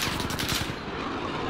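Rapid automatic gunfire in Call of Duty Modern Warfare, a fast continuous burst of shots close and loud, with no talking.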